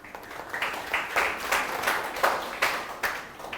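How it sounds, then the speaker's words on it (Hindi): An audience at a UPSC exam-preparation workshop breaks into applause, a run of rhythmic clapping bursts that swell and fade, fairly close and with no talking over it. "जोरदार तालियां।"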